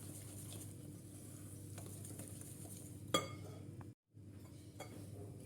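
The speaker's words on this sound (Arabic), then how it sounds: "غادي نبدا نخلط" Lemon cake batter is stirred in a bowl, giving soft, steady scraping and light clinks of utensil against the dish, faint and close, with no talking.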